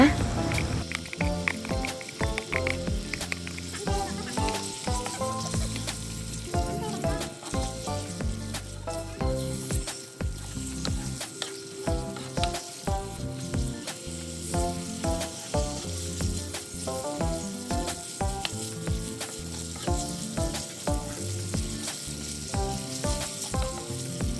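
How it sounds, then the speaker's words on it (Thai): Pork sizzling and frying with a pounded garlic, coriander root and pepper paste in an electric pan, a steady crackle under cheerful background music throughout. "เจียวหมู ผัดกับสามเกลอหอมดีแล้ว"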